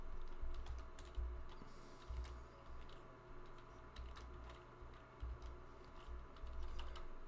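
Steady typing on a computer keyboard while entering a basic database in Excel, a continuous run of soft, close clicks over a low background hum, with no talking.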